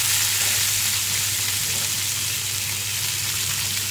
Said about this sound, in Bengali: এই যে তেলটা গরম হয়ে গেছে, পেঁয়াজগুলো দিয়ে দিচ্ছি